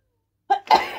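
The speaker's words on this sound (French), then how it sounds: "Je vais éternuer, pardon." After a moment of silence, one close, abrupt sneeze bursts out: a quick inhaled catch followed by a loud, breathy explosion.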